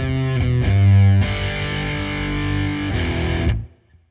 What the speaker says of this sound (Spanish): Aquí lo estoy usando a la distorsión más baja, que a pesar que tiene muy poca distor,